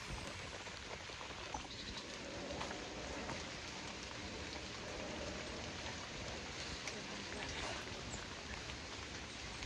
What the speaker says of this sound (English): Thought the rain was stopping there for a minute, but it's just the skies have opened again